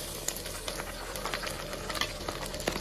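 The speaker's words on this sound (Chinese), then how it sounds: "现在呢要把这个酱下锅" Chili sauce lands in a wok with oil and scallions fried to light golden, and it fries in a quiet sizzle broken by scattered scraping and spatula taps.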